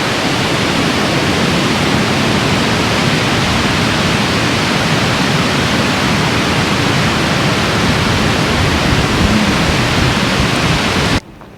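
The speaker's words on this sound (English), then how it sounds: "And the waves are huge." A loud, unbroken roar of huge waves crashing and strong wind off the shore of Koh Chang island fills the scene without talk, then cuts off abruptly at the end.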